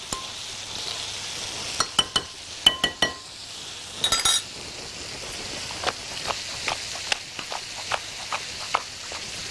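Chicken and vegetables are stirred in a pan with a steady sizzle, a utensil clinking and scraping against the metal in irregular bursts, close and fairly loud, with no talking.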